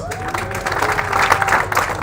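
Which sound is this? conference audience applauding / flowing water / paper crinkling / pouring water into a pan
conference audience applauding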